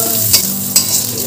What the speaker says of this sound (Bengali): পেঁয়াজ লঙ্কাটা একটু লাল লাল করে ভেজে নিয়ে